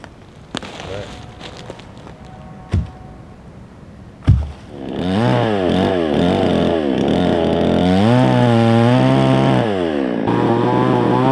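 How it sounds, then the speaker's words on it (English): A chainsaw revs up loudly after a few sharp knocks, its engine pitch rising and falling steadily as it bites through wood, milling a board, close and continuous. "Chainsaw goes in there."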